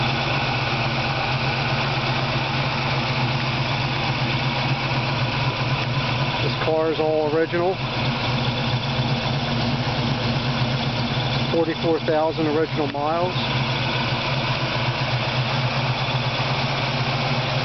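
A 1971 Ford Mustang Mach 1 with a 351 Cleveland V8, four-barrel carburettor and Ram Air idles steadily with a deep, even rumble, while someone talks briefly over it twice.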